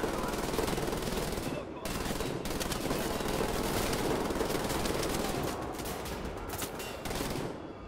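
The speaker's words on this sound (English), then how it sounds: "We have people in the air and those cannons are blasting us out of the sky." Rapid, continuous bursts of heavy cannon fire in the video game Wolfenstein: The New Order crackle and boom without pause, dense and loud throughout, with brief dips between volleys.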